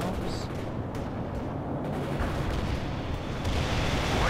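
An artillery strike lands in World in Conflict: a rumbling barrage of heavy, thudding blasts rolls on for several seconds, with sharp impacts near one and three and a half seconds over a continuous low roar.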